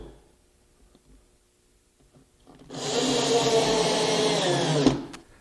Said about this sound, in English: we'll tighten up the number 8 by 3/4 inch screws